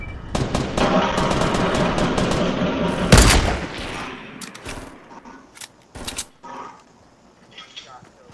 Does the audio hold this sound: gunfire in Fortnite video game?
yes